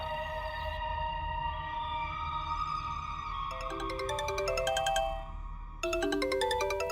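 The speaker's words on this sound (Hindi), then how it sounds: "ये क्या, सुबह सुबह इस बुड्ढे का फोन आ गया।" A phone ringtone plays alone, a sustained melodic tone followed by rapid repeating electronic beeps that start, stop and start again, fairly quiet.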